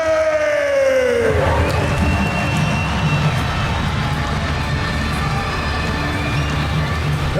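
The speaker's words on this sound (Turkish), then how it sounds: "Alkışı aldı Ali Babazade." Crowd cheering and applauding an Azerbaijani fighter introduced before an MMA bout, a loud continuous roar of voices and clapping that fills the hall, with a brief announcer-like tone fading at the start.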